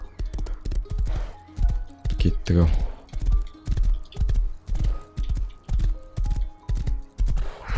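Regular hoofbeats of a horse in the video game Rust clip-clop at a steady trot, close and crisp, with a brief voice speaking over them.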